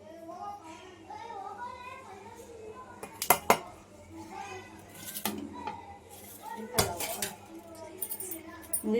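A spoon scrapes and clinks against a bowl as yogurt, turmeric and lemon juice are stirred into a kebab marinade, with bright clanks from dishes now and then while someone talks over it.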